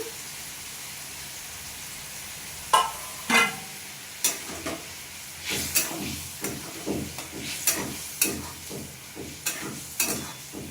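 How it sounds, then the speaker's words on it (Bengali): Minced meat frying in a pan with a low continuous sizzle, punctuated by repeated scraping stir strokes that grow more frequent and rhythmic in the second half. "কিমাটা ছোটো ছোটো পিস করে রাখা কিমাটা আমি দিয়ে দিলাম"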